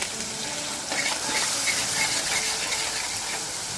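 A spice paste with turmeric and salt fries steadily in a pan for Bengali begun bahar, giving a loud, continuous sizzle and hiss with faint stirring scrapes and no talk.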